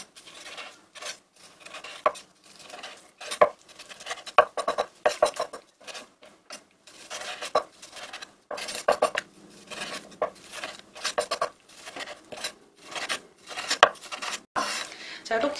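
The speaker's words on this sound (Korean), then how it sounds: "약간 밀면서 이렇게 한번 썰어주시고 나머지 것도 동일하게 썰어줄 거예요." A knife cuts ingredients into 1 cm thick slices on a wooden cutting board, producing a series of close, irregular scraping and tapping strokes with brief pauses between cuts.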